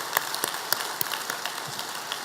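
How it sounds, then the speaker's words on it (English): Scattered hand claps ring out in a hall during a university media center naming ceremony. The claps are sharp and sparse and fairly close, with no voices. "please give them a round of applause."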